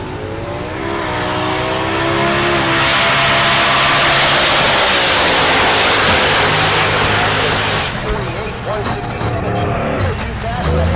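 A Chevrolet Silverado launches in drag racing at Heartland Park Topeka. A loud engine roar builds and sustains for several seconds, then eases off, with a commentator's voice running over it.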